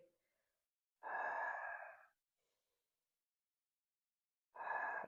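Two slow, audible breaths, a long exhale and later another breath, are taken during gentle wrist strengthening exercises, close and clear, separated by silence.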